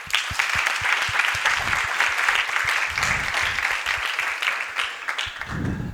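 A seminar audience claps steadily in a room, a dense, sustained round of applause running the full length without talk.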